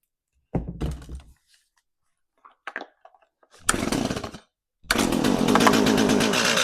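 A used chainsaw is pulled over with a few rattling starter-cord tugs and knocks, then sputters briefly and catches into a loud, continuous running roar close by.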